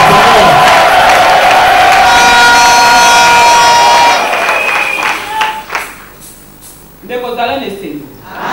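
A loud audience at a national women's conference at a Congolese hotel cheers and applauds in a sustained roar with shrill whistles or horns, then fades to scattered clapping and voices before talk resumes.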